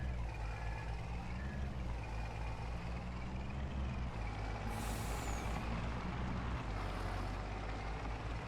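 A farm truck in Farming Simulator 22 rumbles steadily as it drives, with sharp hissing air-brake bursts and reversing beeps, loud and continuous.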